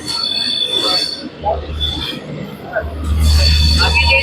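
A train arrives at Vijayawada Junction in Andhra Pradesh, shrill wheel squeals and screeching tones sounding over a low rumble that swells as it slows, with voices talking in the background.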